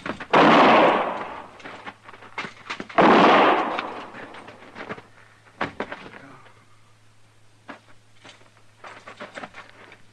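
Two loud, close gunshots boom in a showdown in an old western radio drama, each with a long rolling tail, followed by scattered thumps and smaller cracks over a low hum.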